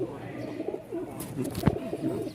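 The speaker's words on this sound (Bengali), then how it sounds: "এই যে দেখেন নরটা ককা ডাক শুরু করে দিছে, দেখছেন" A male pigeon of a Bangladeshi breed gives a few low throaty coos up close, with a short sharp sound near the end and faint background noise.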